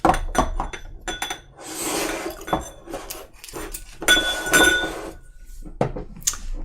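Whisky tasting glasses from a Chivas blending kit clink and knock together as they are shifted across a table, a run of sharp close glassy chinks with some ringing tones and soft rustling between.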